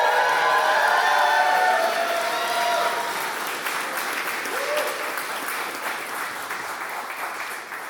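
An audience claps to welcome speaker Jessica Paz at the Mexican Heritage Plaza in East San José, with sustained, dense applause that starts strong and slowly tapers off.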